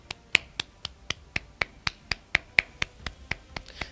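Sharp, dry handclaps ring out in a steady, evenly spaced beat, about four per second, crisp and fairly close against a quiet background with no talk.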